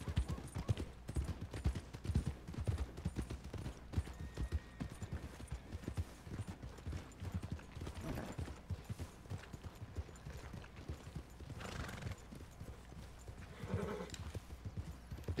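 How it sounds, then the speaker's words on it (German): Horse hooves clip-clop in a steady, brisk rhythm as a horse is ridden in the video game Red Dead Online. The hooves stay fairly faint and continuous throughout, with a little background game noise. "Ein Pferd."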